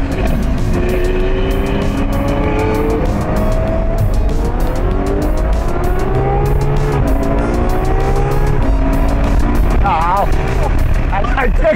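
A Lamborghini Sian accelerates hard on a race track, its engine climbing through the gears with loud rising revs and tire noise, with voices heard over the roar throughout.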